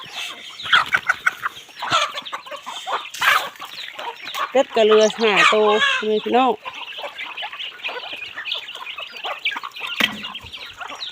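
Chickens cluck and crow around a farmyard while a person speaks over them and calls to the birds in a repeated sing-song voice.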